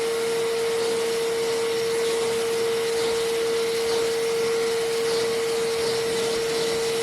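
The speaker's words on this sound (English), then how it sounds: "I'm gonna quickly vacuum it off" A vacuum cleaner runs steadily and close by, a constant whine with a sharp tonal hum, sucking up dust from freshly carved wooden stars on a wooden American flag.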